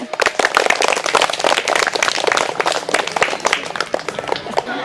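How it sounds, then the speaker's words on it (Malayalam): Schoolchildren at a primary school quiz show clap together loudly and close by in a dense, rapid burst of applause that lasts several seconds. "ക്ലാപ്പ് ചെയ്യും നല്ലോണം"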